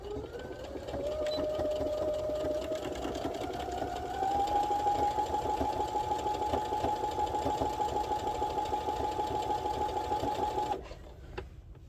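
A sewing machine stitches a straight seam on a fabric mitten, running as a steady close whir that speeds up slightly partway through and holds a constant hum before stopping abruptly near the end.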